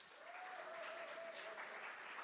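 An audience claps continuously to welcome a middle school team at a student mock trial competition, steady applause with a faint tonal hum running through it.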